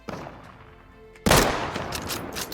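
Gunfire in the survival shooter Deadside erupts abruptly after a quieter stretch, then carries on as a dense, loud run of shots and echoing cracks.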